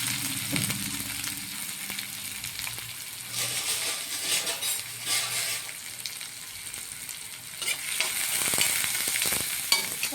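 Mustard seeds, dried chillies and onion fry in hot oil with a steady close sizzle, broken by crackles, pops and the scrape of stirring in the pan.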